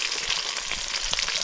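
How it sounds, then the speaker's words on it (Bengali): Fish fries in hot oil with a dense, steady crackling sizzle, close and loud, with occasional sharper pops and no voices over it. "আমাকে কিন্তু মাছ ভাজা কমপ্লিট হয়ে গেল। তো এবার মাছ ভাজা সব করা নামাই দিই"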